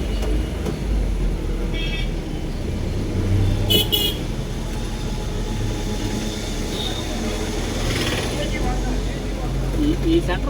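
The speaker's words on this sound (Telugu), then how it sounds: "ట్రాఫిక్ జామ్ అయింది రోడ్లో" A road traffic jam on the way from Vinukonda to Narasaraopet, heard from inside a truck: steady engine and traffic rumble, with a couple of short horn toots cutting through.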